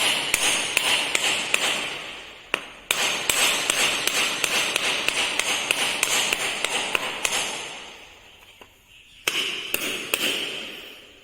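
A hammer taps a pattern down into packed sand in a foundry mould box, a quick run of sharp, close knocks in steady rhythm, a pause, then a few more taps.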